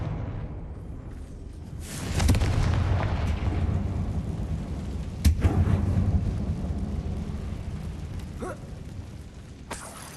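Bombarda and Confringo spell blasts in the video game Hogwarts Legacy, inside a closed, tomb-like mine: two loud, booming explosions with rumbling tails, the second set off by a sharp crack, followed by a fainter burst.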